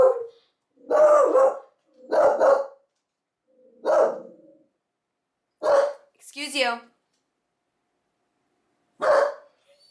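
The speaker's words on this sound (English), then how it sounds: "Please don't be barking." A dog barks in short separate bursts, several loud woofs spaced apart, with a brief spoken remark among them.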